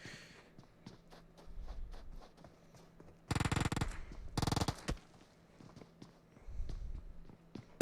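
Gunfire in the battle royale game PUBG Mobile during an esports scrim match, with two loud, dense bursts of rapid automatic fire midway through, over quieter footsteps and game ambience.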